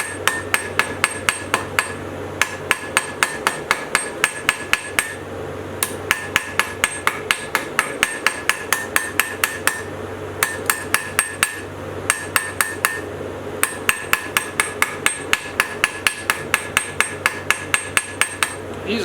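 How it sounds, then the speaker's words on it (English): Steady hammer blows on metal against an anvil, a light one-pound hammer rounding a piece of a decorative plant hanger; rapid, even, ringing strikes repeat throughout with a few short pauses, close and loud. "Use a lighter hammer for this because you can get a lot more blows out of it."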